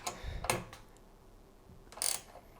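Ratchet tightening an 8mm bolt on a Land Rover Discovery roof rack, a few short bursts of rapid clicking separated by pauses, close and fairly quiet.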